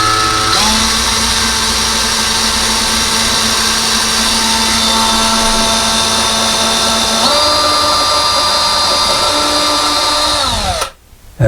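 A power drill with a 3/16 bit bores slowly into a wall for a closet rod install, a loud sustained whine that shifts pitch partway through, then cuts off abruptly at the end.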